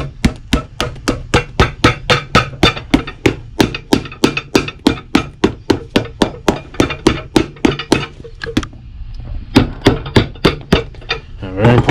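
Steady, rapid hammer blows on the leather sole of a Dan Post boot during a resole, under the arch area, dozens of sharp knocks in an even rhythm, close up, with a brief pause near the end.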